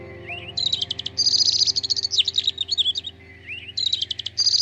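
Small birds chirp and trill close by in quick repeated bursts of high, bright notes, with a low steady hum underneath and no talking.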